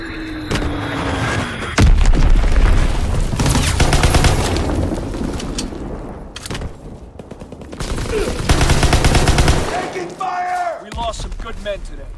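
Enemy bombs burst and gunfire rattles in a war video game, loud dense explosions and volleys rolling in waves, with shouted voices and short lulls between blasts.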